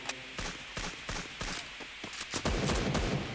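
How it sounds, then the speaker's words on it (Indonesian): Gunfire in the mobile battle royale game Free Fire, a rapid series of sharp shots in an irregular rhythm, closer together and denser toward the end, loud with no talk over it. "kita lihat lagi di sini terjadi suara tembakan"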